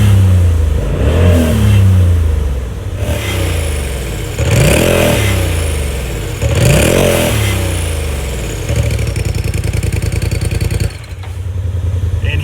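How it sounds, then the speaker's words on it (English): A 2019 Polaris RZR Turbo S with its exhaust valves closed revs repeatedly, with about four loud throttle blips that climb and fall back to a rumbling idle, close by and without voices. "here's the exhaust with the valves closed"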